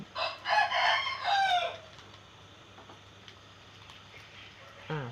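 A rooster lets out one full crow early on, loud and close, then the air goes quiet apart from a faint background hiss and a brief sound at the end.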